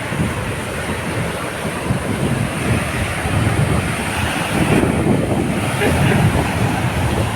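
Sea waves at Visakhapatnam beach roll in with a constant rushing surf and buffeting wind on the microphone, loud and close throughout, with faint voices in the background.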